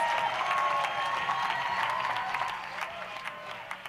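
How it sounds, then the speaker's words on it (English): A commencement audience claps for the graduates' supporters at a school of pharmacy ceremony, sustained applause that thins toward the end into scattered claps, with some cheering and murmured voices. "Let's join together in a round of applause, as you are doing, for all those who supported the graduates."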